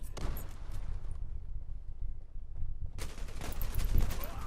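Rapid automatic gunfire from a weapon in the online shooter Zula, a sustained burst at close range, then a pause and a second loud burst of shots.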